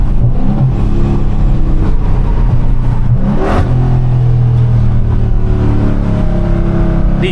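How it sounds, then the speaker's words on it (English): A hoodless Dodge Scat Pack's engine blips and revs through downshifts while leaving a highway exit, loud and continuous with a sharp rev spike mid-clip, heard from inside the car. "These downshifts, man, they don't get old."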